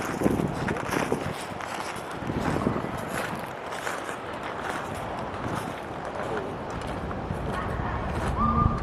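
Wind blowing outdoors during a city walk in Stockholm, a continuous rough rumble of gusts buffeting the microphone at steady loudness for several seconds, with no talk.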